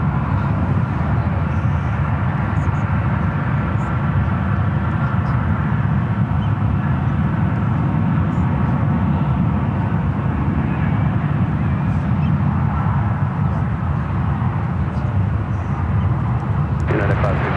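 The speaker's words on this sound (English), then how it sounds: "almost a double landing." Jet airliners at San Francisco International Airport, with a steady, loud roar of engines holding for the whole stretch and a voice talking over it.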